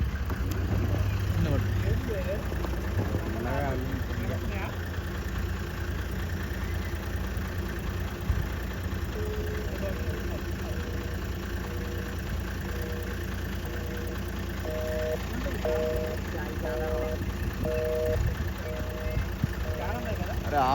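A car engine idles steadily for about twenty seconds, a continuous low hum with a faint knocking rhythm, while voices talk over it throughout.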